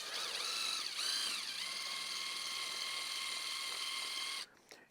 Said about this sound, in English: I can slide this onto my impact or my drill, and that quickly I'm mixing